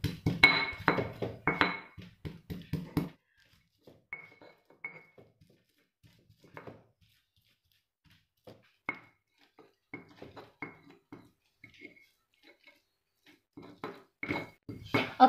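Spices, galangal, ginger, lemongrass, shallots and garlic with a little salt being ground in a stone mortar and pestle: a quick run of scraping, knocking strikes, then sparse, quieter taps and grinds with pauses, picking up again at the end.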